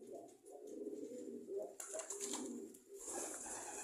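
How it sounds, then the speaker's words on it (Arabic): Domestic pigeons, a hen and her mate perched on top of a nest cage, coo in soft repeated low throbbing calls close by, with faint rustling and a brief brighter noise burst midway. "هي والذكر بتاعها اللي فوق القفص دول"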